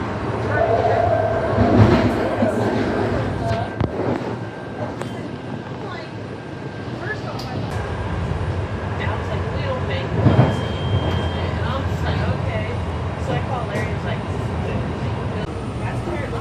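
Rail car rumbling steadily along an elevated line over the Ben Franklin Bridge toward New Jersey, a continuous loud roar with wheel clatter and a high whine, heard from inside the train.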